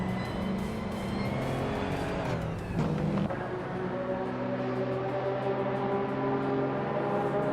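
Racing car engines in a video game race, a steady high-pitched drone with a whooshing pass and pitch drop as one car overtakes another, loud and continuous.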